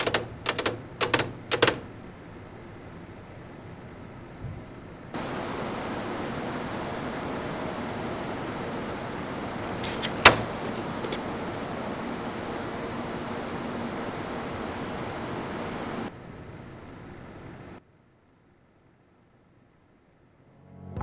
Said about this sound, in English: for a case with 6 fans, the system is actually fairly quiet, as long as you're not maxing out the RPM on these 140mm fans